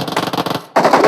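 Grenades exploding in PUBG Mobile, a rapid string of short crackling blasts, a brief gap, then a louder dense burst, all close and harsh.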